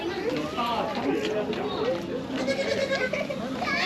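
Lambs bleating on a spring farm among other livestock, repeated wavering calls over a busy, continuous background of movement, with people talking nearby.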